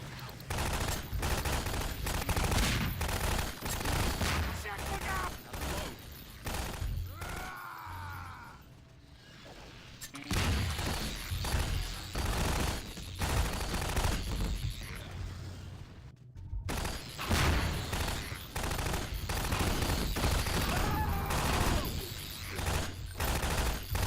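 Dense gunfire and mechanical turret fire in the video game Half-Life 2: Episode Two, loud bursts of shooting running almost continuously, with a brief lull near the middle, over game sound and occasional voices.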